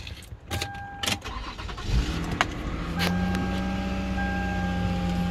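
A Toyota Avalon with 266,000 miles starts up: a few clicks and cranking, then the engine catches around two seconds in and settles into a steady, close idle with no one talking.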